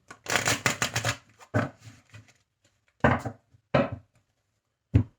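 Oracle cards shuffled by hand at close range, a dense burst of rapid riffling flutters followed by several shorter separate shuffles with pauses between them, loud and clear with no talking.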